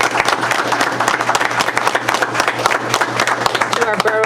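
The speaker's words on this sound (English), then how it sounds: "Let's give Eleanor a nice round of applause" An audience at a borough council reorganization meeting breaks into steady applause, dense close clapping throughout, with a voice speaking near the end.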